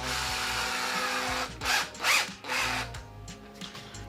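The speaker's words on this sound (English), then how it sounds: "take my screw gun and just screw these to the top" A screw gun drives screws into a black acacia stump blank, giving a few short whirring bursts in close succession, loud and near, over a steady workshop hum.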